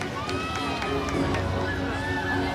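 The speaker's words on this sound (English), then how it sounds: "keep cheering for them" Crowd cheering and shouting, including children, at a live orca show, a continuous hubbub of voices with whistle-like tones over it.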